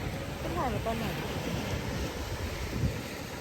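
Surf rolls onto the beach at Pattaya as a steady, loud wash of waves blended with wind buffeting the microphone, with faint voices in the background.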